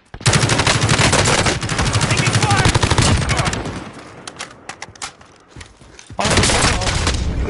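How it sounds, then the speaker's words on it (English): Video game gunfire roars in rapid automatic bursts, loud and close: a long sustained stream, a pause with scattered single shots and thuds, then another heavy burst. "I'm taking fire!"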